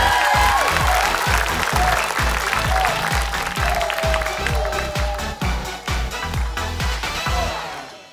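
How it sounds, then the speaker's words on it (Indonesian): Studio audience applause on the Indonesian game show Family 100, loud dense clapping over a rhythmic thumping music beat, tapering off at the end. "Tepuk tangan dulu dong untuk Arbidu"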